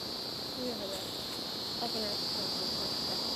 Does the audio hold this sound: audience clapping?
no